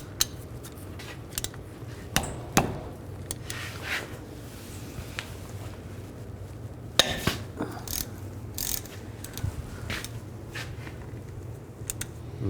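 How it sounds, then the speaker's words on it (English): Caliper slide bolts on a 2002-06 Chevy Avalanche being worked with a T55 socket, giving scattered metallic clicks and clunks against quiet garage background, close and moderately loud. "Take these caliper slide bolts out."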